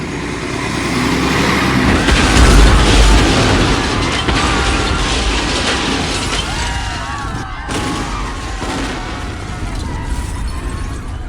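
A loud, sustained roar of an explosion in a fictional drama, with rumbling debris and crackling chaos spreading through the scene and slowly tapering off, no voices heard.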